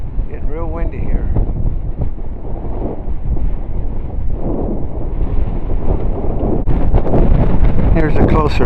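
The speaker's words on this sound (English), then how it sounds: "Getting real windy here." Strong desert wind gusts buffet the microphone at an aircraft boneyard, a constant loud rumbling roar throughout.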